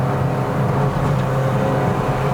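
A 2017 Toyota Vios Sports Edition with a CVT pulls uphill on a mountain road, its engine droning steadily and loud from inside the cabin with a constant low hum and no break in the sound.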